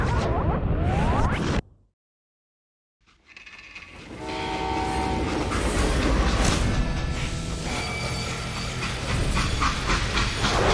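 A train in the western game Call of Juarez: Gunslinger: a burst of noisy rumble cuts to a brief silence, then steam hiss, horn-like tones and rolling rail clatter build and continue loudly.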